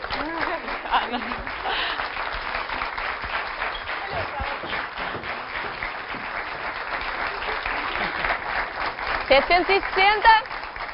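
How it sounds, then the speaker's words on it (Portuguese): Studio audience applause on a television health show for a doctor, a woman and a dog, continuous clapping running under lively talk from the presenters, swelling near the end. "um aplauso para o Dr. Nuno e para a Raquel e para o nosso Tufão"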